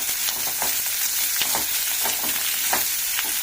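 Onion frying in a pan for rice-flour dosa, a steady close sizzle with periodic scraping stirs through the whole stretch, no voices.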